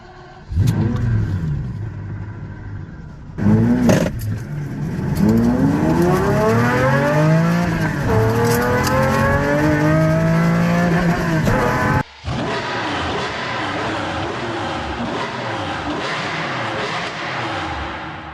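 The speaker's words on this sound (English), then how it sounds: "a clip here of the exhaust note of Horatio Pagani himself racing one of these things" A Pagani V12 race car screams through repeated loud, rising gear-by-gear acceleration runs, with sharp shifts and cuts, then settles into a steady sustained roar near the end.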